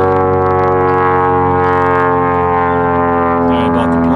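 A propeller airplane flies overhead above a home, a loud, steady droning hum that fills the whole stretch without a break, with a voice talking over it.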